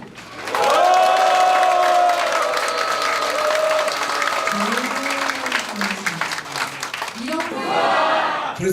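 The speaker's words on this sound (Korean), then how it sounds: "여러분의 힘찬 박수와 함성으로" Loud applause and cheering from a crowd at the opening of an education superintendent candidate's campaign office, with sustained clapping, shouts and whoops, and voices calling out over it throughout.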